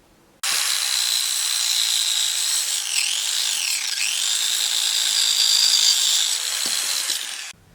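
Amtech 230V 600W mini circular saw cutting, a loud continuous high-pitched whine for about seven seconds with slight dips in pitch as the blade bites, then stopping abruptly.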